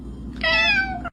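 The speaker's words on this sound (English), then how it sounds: "I need y'all to meow at the same time, please." Several house cats meow together in one drawn-out, loud, close cry lasting under a second, ending abruptly.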